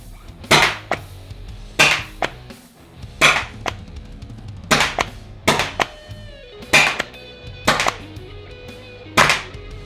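A Neutrino SuperCORE blaster fires at targets about 25 feet away, giving about eight sharp, close snaps spaced at uneven intervals with quiet gaps between shots.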